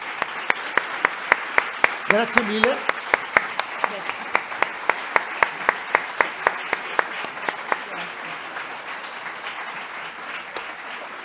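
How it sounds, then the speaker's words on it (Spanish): Scattered hand claps from a small audience at a book talk, steady but sparse, with a voice speaking briefly in Spanish over them before the clapping thins out. "Nos vamos a ir con un fuerte aplauso y de admiración absoluta"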